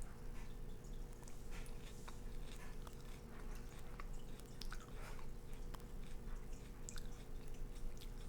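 Close-up crunchy chewing of an Aji Charapita chili pepper, with soft bites and crackles repeating irregularly over a steady low background hum.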